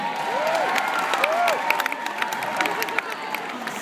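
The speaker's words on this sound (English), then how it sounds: "come on, you can cheer" Spectators cheer and applaud at a Crufts small dog team agility final, a continuous steady crowd roar with whistles and scattered shouts rising and falling over a few seconds.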